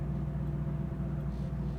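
A 1969 Chevrolet Camaro big block V8 idles steadily at low revs, a continuous deep rumble close by with no voices, engine still below operating temperature while waiting in traffic.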